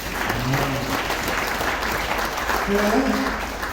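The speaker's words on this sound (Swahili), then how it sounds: "Piga makofi mazuri kwa Bwana." A church congregation at a Tanzanian service claps for the Lord in steady, dense applause that fills the room, with faint voices and singing tones drifting underneath throughout.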